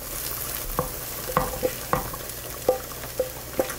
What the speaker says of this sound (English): I cut all the beef off, and I'm going to throw it into the pan.